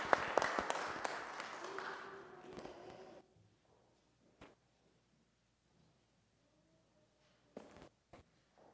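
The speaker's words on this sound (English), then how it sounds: "Let's give them a round of applause this morning." A church congregation at a Sunday morning service claps for about three seconds and then stops, leaving near silence broken by a few soft knocks and shuffles.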